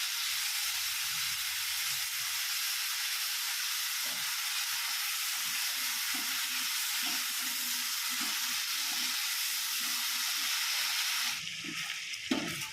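Tomato and spice paste sizzles steadily in hot oil for a lau chingri curry, a dense continuous crackle with a few soft stirring knocks, easing off near the end.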